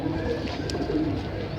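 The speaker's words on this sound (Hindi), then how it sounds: "नीलेपन में कबूतर हैं, 10वीं और 9वीं इसकी सफ़ेद है।" Domestic pigeons with bluish plumage cooing close by, a soft, low, continuous murmur of calls with a brief higher chirp partway through.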